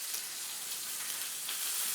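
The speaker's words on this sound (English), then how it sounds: "The chicken is sizzling away over there." Steady bright sizzling of chicken searing in a hot pan, continuous and close, with no voices.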